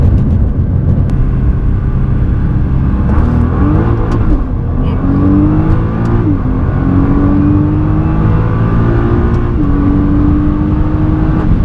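A 2010 Nissan GT-R engine drones steadily up close, its pitch rising in long sweeps as it accelerates, with a faint turbo whir over the rumble.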